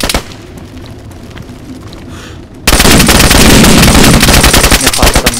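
Rapid, loud bursts of automatic gunfire in the video game DayZ erupt suddenly after a quieter stretch, continuing in dense rattling volleys until the end.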